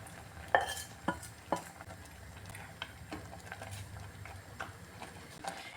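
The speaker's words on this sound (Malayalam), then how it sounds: "ഇത് ഇടയ്ക്കിടയ്ക്ക് ഇങ്ങനെ ഇളക്കി കൊടുക്കണം" Vermicelli kheer simmering with milk, cashews and raisins in a pot gets stirred with a spoon, sharp scraping taps against the pot near the start, then softer irregular clinks over a quiet low bubbling background.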